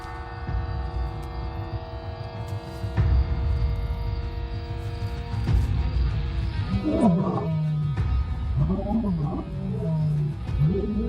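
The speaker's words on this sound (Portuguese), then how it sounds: "eu continuei ouvindo rugidos no campo e ao redor do alojamento" Wild lions roar near a safari lodge at night, deep drawn-out groans that rise and fall in a series of rumbling calls, loud and close over a steady low hum.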